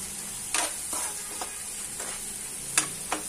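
Masala and salt being stirred in a frying pan while making poha: soft scraping spoon strokes against the pan over a faint steady sizzle, close and quiet, with no talk.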